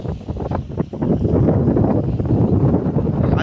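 Strong wind blowing outdoors under a cloudy monsoon sky, a loud continuous rumbling buffet against the microphone that rises and holds steady, with no speech.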